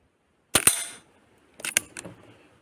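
Two pairs of sharp snapping shots from an Artemis CP2 .177 air pistol firing pointed Swiss Arms pellets, close and crisp, each followed by a brief fading ring, with silence between.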